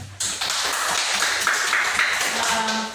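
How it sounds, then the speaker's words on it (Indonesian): Classroom applause follows a student group's presentation, a dense and steady patter of many hands clapping that runs for nearly three seconds, with faint voices in the background. "Oke, tepuk tangan."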